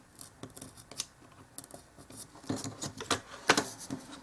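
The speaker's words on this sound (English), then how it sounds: "I did not get that one marked, so I'm just going to cut it." A sharp knife slicing through paper for a dollhouse miniature exterior, a series of quiet, close scratchy cuts in short bursts that grow denser and a little louder toward the end.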